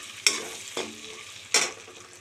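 Potatoes half-fried in a pan with a pinch of turmeric for a paneer dish, giving three distinct stirring scrapes over a soft, steady sizzle, with no talking.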